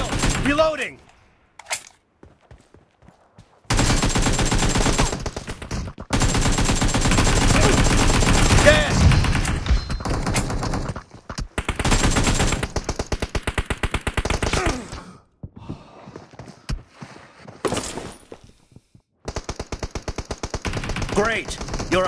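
AKM rifle fitted with a Jack-O-Lantern skin firing in a PUBG Mobile team deathmatch: loud, close bursts of rapid automatic fire separated by short silent gaps.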